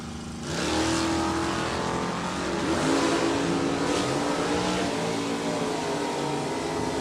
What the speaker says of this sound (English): Watch this wheel stand in factory stock B Camaro on the left side to run Don Turk's F-Stock automatic.